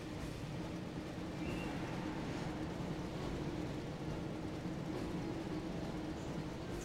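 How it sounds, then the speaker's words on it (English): Hogwarts Express steam train from the PS1 Harry Potter and the Chamber of Secrets game: a steady, moderately loud rumble of rolling rail noise that continues unbroken with no clear whistle or individual beats. "Looks like we found the train"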